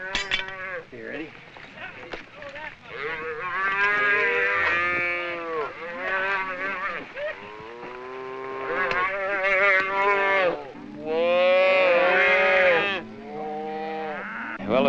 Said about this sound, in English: we're going to brand the cows we have in the corral